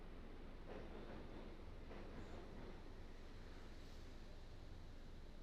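A subway train in Max Payne rumbles along the track, a faint, steady rolling drone with soft rhythmic clatter that never lets up.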